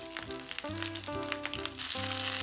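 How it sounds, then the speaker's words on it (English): Hot and mild Italian sausages sear in a pan with a steady sizzle. Music plays throughout, partly masking it, and the frying grows brighter near the end. "I'm gonna go about 2 minutes on each side, and then I'm gonna rotate them."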